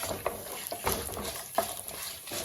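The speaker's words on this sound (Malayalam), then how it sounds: "ടീസ്പൂണ് ചെറിയ ജീരകം നല്ല ജീരകം അതിട്ട് കൊടുക്കുക കശുവണ്ടി ഒരു രണ്ട് സെക്കൻഡ് ഇളക്കി കൊടുക്കുക" Cumin seeds and cashews stirred briefly in hot oil in a pan for Kerala-style tomato rice, giving a soft sizzle with a few sharp spoon scrapes against the pan.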